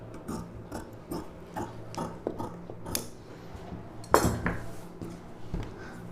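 Scissors cut a boat-neck silk saree blouse piece on a tabletop, giving a series of small metallic clicks and snips. One sharper, louder clack lands near the end.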